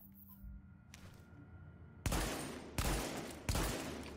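Gunfire from a weapon in The Division, three loud close shots spaced less than a second apart, following a quieter stretch with faint distant gunshots.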